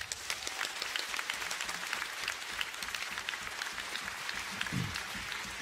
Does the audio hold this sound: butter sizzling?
no